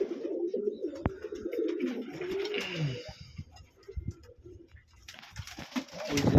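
Pigeons coo and murmur inside a home loft, with Sirazi pigeons among the nesting birds, a steady layered cooing close by and alone, rising again toward the end.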